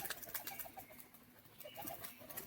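Faint pigeon coos and light rustles come from birds kept in a loft, a quiet, steady murmur of low calls with no one speaking.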